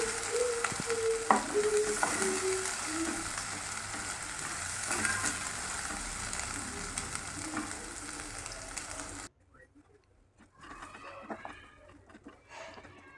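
A masala mixture for matar paneer fries in a kadai, steady sizzling with stirring scrapes for about nine seconds before dropping to a faint, quieter sizzle.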